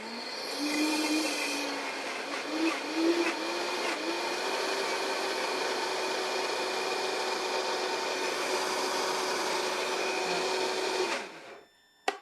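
A blender runs on high speed mixing food, a loud steady whirring drone with slight pitch wobble at the start, continuing evenly for about eleven seconds before cutting off with a click.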